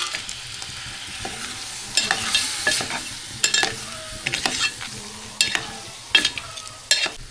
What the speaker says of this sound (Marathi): हे जे खेकडे आहेत ते आपण ह्याच्यामध्ये ॲड करू.